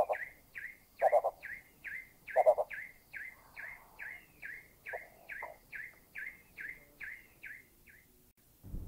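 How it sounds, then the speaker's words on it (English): Blue-bearded bee-eater and hill prinia calling in Thailand: the prinia's monotonous chirp repeats steadily in the foreground, about sixteen evenly spaced notes, while two louder, lower bursts break in early on. "The monotonous call in the foreground is the hill prinia"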